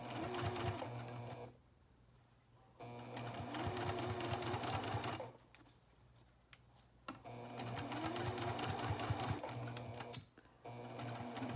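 Home sewing machine stitching and backstitching a seam on a small toiletry bag, three loud close bursts of rapid whirring separated by short quiet pauses as the fabric is repositioned.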